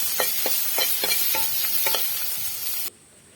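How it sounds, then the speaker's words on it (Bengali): Finely chopped bitter gourd with salt and turmeric being stirred in a pan: about eight quick, rhythmic scraping strokes close by, with no talk, ending abruptly. "একটু নাড়াচাড়া করে নেব।"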